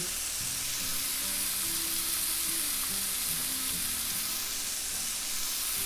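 Smash burger patties cooking on a flat griddle make a loud, steady, close hiss of sizzling fat that runs unbroken throughout, with no voices.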